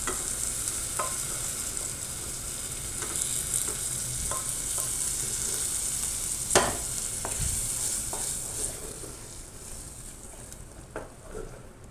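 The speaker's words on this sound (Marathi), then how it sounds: "आता आपण यामध्ये डाळ ॲड करूया." Cooked toor dal is stirred into frying masala in a pan, giving a steady close sizzle with scattered scraping and clinking stirring strokes throughout, and no voices.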